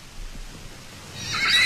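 A horse from a wild herd living free in a Latvian nature park neighs, a rising whinny building near the end over quiet outdoor background, moderately close and alone.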